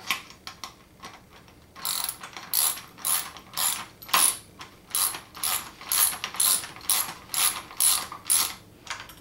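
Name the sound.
tightening a nut with a 1/2 inch wrench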